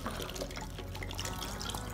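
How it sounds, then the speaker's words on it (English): Water gurgles and trickles steadily as it drains in a swirling vortex from one plastic bottle into a second bottle joined beneath it, a close, continuous liquid sound with small drip-like splashes and no talking. "that's to make a tornado that will drain the water into the other bottle"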